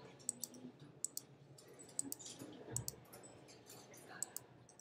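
A computer mouse clicked several times in quick, sharp, quiet taps against a faint room background, with no voices.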